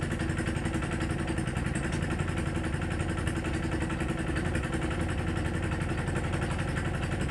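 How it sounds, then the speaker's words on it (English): Restored Bolens Power Ho garden tractor engine, run again after sitting for 40 years, idles steadily with an even mechanical chug and light clatter, close and constant throughout with no talking. "let it sit here and idle"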